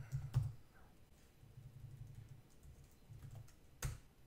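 Soft keystrokes on a computer keyboard while renaming a filter view in Google Sheets: a few sparse, faint clicks spread over several seconds with quiet gaps, and no talking.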